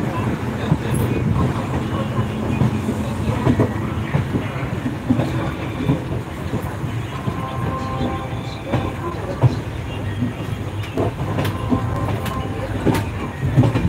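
Ride aboard a train heading home from Jodhpur, with a continuous rumbling roll and faint clickety-clack of wheels on track, plus scattered knocks and muffled background voices.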